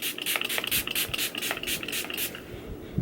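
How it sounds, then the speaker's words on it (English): A rapid series of short, hissing spray bursts, about eight quick pumps of a rose water facial mist bottle close by, then fading hiss. "We're gonna spray our whole face with this."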